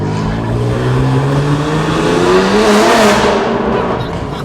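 Loud, close revving from a BMW G87 M2 engine with a tune, swelling as the car accelerates hard, with a rising pitch and a roaring peak before it eases slightly, heard on its own.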